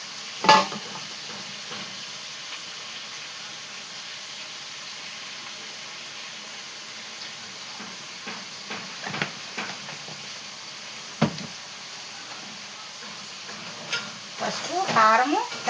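Tomato curry with turmeric and chili simmers in a pan as a faint, steady hiss, broken by a few sharp spatula knocks and scrapes, with more stirring clatter near the end.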